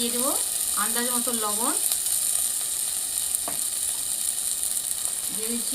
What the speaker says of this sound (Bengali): অল্প তেলেই মশলা আমি কষিয়ে কালিয়া করবো